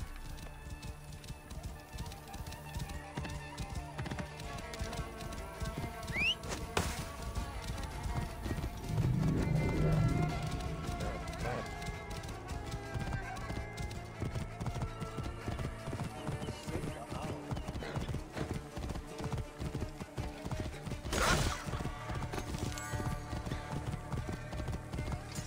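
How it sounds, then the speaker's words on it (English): Horse hooves clip-clop in a video game, a steady rhythmic clopping of a nearby horse running under ambient game music for the whole stretch, with a brief whinny and a voice speaking now and then. "This must be Mered's horse."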